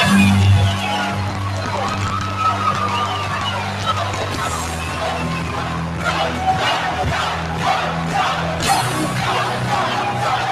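A rally crowd at a Fayetteville, North Carolina event for Donald Trump chants and cheers in a loud, sustained roar, with rhythmic shouted bursts rising over a constant low murmur.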